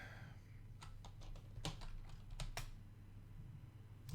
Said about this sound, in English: Can't type today, apparently. See if I can't get myself more comfortable on my keyboard here.